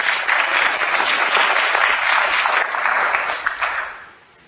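An audience claps steadily for John and Kathy at a talk on affirmation, dense and fairly loud, then tapers off and fades in the final second.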